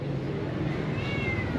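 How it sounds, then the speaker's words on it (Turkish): A cat meows once, fairly faint, over steady street background noise in George Town's Little India district in Penang. "Burada da kedi var."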